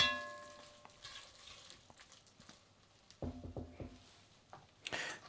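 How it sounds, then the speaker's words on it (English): Curry leaves frying in a pan and being stirred, faint sizzling beneath a few light spoon clinks and scrapes, with a louder burst of stirring clatter toward the end. "So I'll add a few here. And then give this a nice stir."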